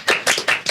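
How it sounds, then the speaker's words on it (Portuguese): Applause marking a podcast's first anniversary in a studio: four quick, close, loud claps in under a second, evenly spaced and crisp, with no talking over them. "Uma salva de palmas!"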